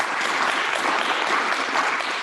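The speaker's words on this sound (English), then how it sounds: "big round of applause, please, for our 4 panelists in person" An event crowd at a circular economy hub launch in Western Australia applauds the four panelists, a dense, steady burst of clapping throughout with no talk.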